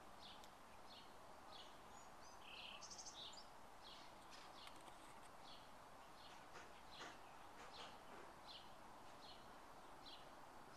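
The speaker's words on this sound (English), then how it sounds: "I love the birds that are always chirping here." Birds chirp and tweet in repeated short calls over steady outdoor background noise at a hillside spot with a view, moderately distant, with no talking.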